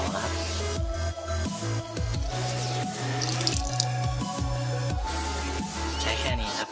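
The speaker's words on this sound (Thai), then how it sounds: "น้ำเปล่านะครับ" Plain water runs and drips close by as a sponge is prepared for cleaning a car seat, giving a patter of irregular drops and small trickles with no talking.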